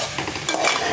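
A spoon stirs tomatoes into a thick capsicum chicken curry in a pan, with soft scraping and a faint sizzle underneath, close and steady for a moment.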